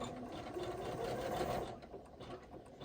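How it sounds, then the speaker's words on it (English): Sewing machine running a few stitches on a wallet, a soft, rapid rhythmic whirring at close range that continues steadily throughout. "I'm just going to leave the machine running because it's just a few stitches"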